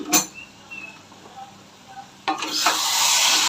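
Taro greens cooked with a hilsa fish head are stirred in a pan: a sharp clink, a quiet stretch with faint scrapes, then a loud burst of sizzling that continues steadily to the end, with no voices.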